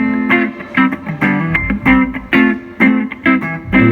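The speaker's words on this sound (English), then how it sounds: "here's my clean tone" Clean electric guitar tone with an MXR Sugar Drive set as a light clean boost plays a lively phrase of picked notes and chords, bright and close, with no voices.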